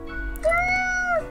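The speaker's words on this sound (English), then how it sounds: "Meow, she mutters, then places a paw upon some documents littering the table." A single sustained meow from a cat in the video game Death and Taxes, close and clear, rising and holding steady before tapering off, with no voices present.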